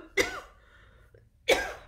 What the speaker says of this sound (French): Je viens d'avaler de travers.